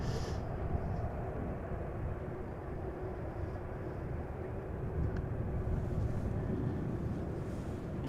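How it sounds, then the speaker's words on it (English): Emirates Airbus A380 taxiing back to the gate at Amsterdam Schiphol Airport, a low steady jet engine rumble heard from a distance, continuous and fairly faint. "the Emirates A380 is starting its taxi back to the gate"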